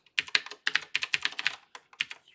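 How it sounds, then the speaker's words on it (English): Rapid bursts of computer-keyboard keystrokes as a URL is typed into a vulnerability scanner, close and crisp, in irregular clusters of clicks with short pauses between, no voices. "Type in a URL."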